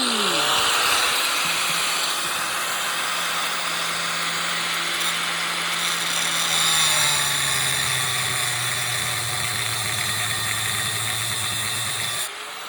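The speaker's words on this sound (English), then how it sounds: "Start the engine." A small engine-driven cutting tool runs steadily while an AC window unit is taken apart, a loud continuous mechanical whine and buzz with a low drone that drops in pitch midway, then cuts off near the end.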